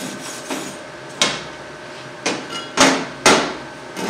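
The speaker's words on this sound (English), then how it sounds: "Then we'll come in here and we will clean it up with this brush." A wire brush scrubbing slag off a fresh stick weld, five or six sharp scraping strokes at irregular intervals, close and fairly loud with quiet gaps between.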